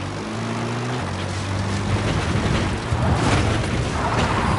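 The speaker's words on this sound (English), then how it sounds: "Support helicopter requested." A support helicopter arriving in a PS4 military video game, heard as a loud rotor roar and rumble rising steadily, with low engine tones at the start giving way to a broad, building wash of noise.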